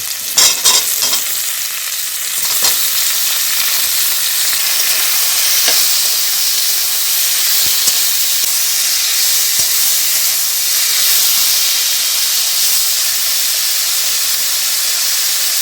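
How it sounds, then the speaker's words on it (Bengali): Tomatoes added to onions already fried in a pan for a tangra fish and green tomato curry sizzle and hiss steadily and loudly, a continuous close frying sound with a few stirring scrapes near the start. "পেঁয়াজগুলো ভাজা হয়ে গেছে আমি এখন টমেটমগুলো দিচ্ছি"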